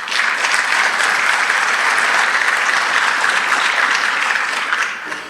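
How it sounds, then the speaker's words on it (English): Audience applause at a Class of 2022 graduation ceremony, a continuous even wash of clapping from a large crowd, loud and sustained for about five seconds before fading slightly. "I'm going to suggest we hold our applause for the end."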